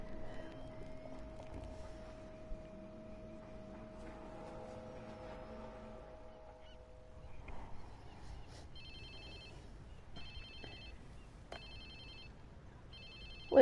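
A phone rings in Watch Dogs 2 as a short run of repeated electronic ring bursts in the second half, following a quiet stretch of game ambience with a steady tone.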